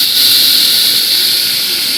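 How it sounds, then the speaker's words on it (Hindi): Tadka tempering for chana dal sizzles in a hot pan at a roadside rest area, giving a loud, steady, close hiss that carries on without a break. "दाल के लिए तड़का हमने लगा दिया है।"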